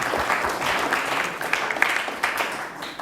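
Church congregation applauding, a dense, steady wash of clapping that runs the whole time with no gaps, fairly close and loud.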